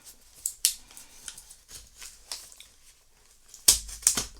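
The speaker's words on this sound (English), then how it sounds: "there's no seal here, so I'll just have to cut it" A blade cuts through the tape on a product box with sharp, scratchy slicing strokes, a few quiet ones followed by two louder close cuts near the end.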